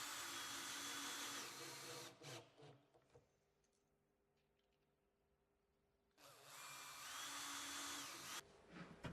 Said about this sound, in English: Use a cordless drill to bore several pilot holes through the hinge leaves